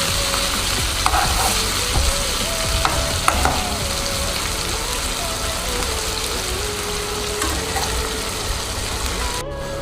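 Potatoes fry in a pan in a home kitchen with a steady, loud sizzle throughout, broken by occasional scraping as they are stirred.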